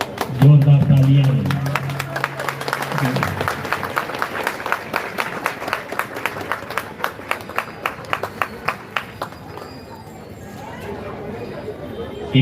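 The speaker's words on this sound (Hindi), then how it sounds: "जोरदार तालियां।" Loud applause fills a church prayer service during a peace rally, with a crowd clapping in sharp, rapid claps that thin out and taper over about ten seconds, after a voice on a microphone at the start.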